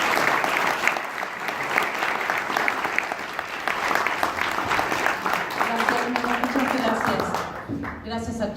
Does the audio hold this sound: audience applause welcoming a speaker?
yes